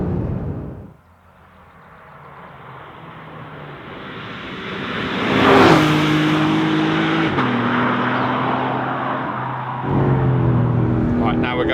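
A Porsche 911 GTS T-Hybrid pulls hard, engine note rising in pitch through the gears with a couple of shift steps, loud and close from inside the cabin; no one speaks over it.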